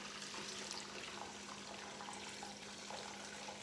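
Chicken broth poured through a strainer into a pot while making chicken stock, a steady close splashing and trickling of liquid that runs continuously without a break.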